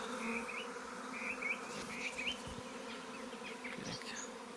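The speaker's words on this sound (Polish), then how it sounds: "Jeszcze tutaj cały czas pszczoły dużo w powietrzu, jeszcze siadają." A swarm of honeybees buzzing through warm, humid outdoor air during a Kashubian swarming, a dense continuous hum at moderate distance with individual bees passing closer, no voices.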